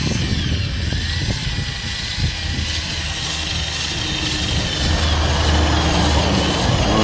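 A power drill fitted with a scrub brush scours a bird bath with borax, a loud continuous whirring grind with rough scraping that holds steady throughout.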